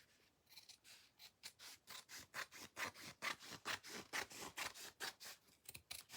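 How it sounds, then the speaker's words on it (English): Scissors cutting open the seam of oversized pants, a rapid run of about twenty crisp rhythmic snips, close and fairly quiet with no talk. "So I'm going to cut that open."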